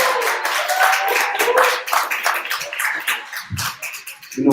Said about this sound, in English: Give the brother a round of applause